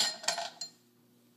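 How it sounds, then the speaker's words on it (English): Ice cubes dropped into the bottom of a bowl while making a strawberry and tequila drink, giving a few clinking hits in quick succession, then a pause and one more sharp clink. "Then I'm going to add the ice cubes."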